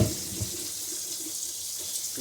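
Tap water runs steadily into a sink while carrots and celery are rinsed, a continuous hissing splash with small clunks of handling, close and moderately loud, no talk.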